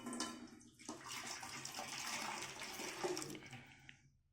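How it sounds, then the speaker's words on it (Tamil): Ground paani puri rasam mixture poured into a vessel, a continuous close liquid splashing and gurgling pour lasting a few seconds, with no voices. "இப்போ நம்ம அரைச்சி வச்சதை எடுத்து நம்ம ஒரு போசியில் ஊற்றிக்கலாம்"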